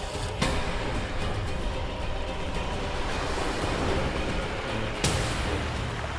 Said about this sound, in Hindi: ये पानी की आवाज कहां से आ रही है?